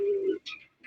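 A Black Gold Archangel pigeon gives a short close coo, a low steady note, then a couple of brief higher chirps.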